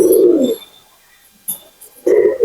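Pigeons kept by a hobbyist coo in soft low bursts, one near coo at the start and another at the end, with a faint flutter in between.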